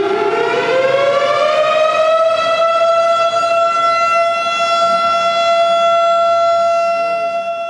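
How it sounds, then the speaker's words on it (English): A civil defense siren wails to announce the start of Sabbath in Hasidic Brooklyn, a single loud, steady tone rising at first and then holding for several seconds with no voices over it. "This siren indicates the beginning of Sabbath"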